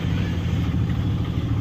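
A car's engine rumbles steadily at close range, low and continuous, as it slows and pulls over to the roadside on arrival at a temple site; no one speaks.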